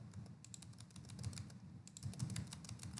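Rapid, light typing on a computer keyboard while multiple-choice exam answers are entered online, the keys clicking steadily and softly in quick uneven runs with no voices.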